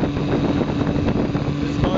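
A 1968 Evinrude Sportwin outboard motor drones steadily as it pushes a twin-hull boat across water, a loud continuous engine rumble mixed with wind buffeting on the microphone.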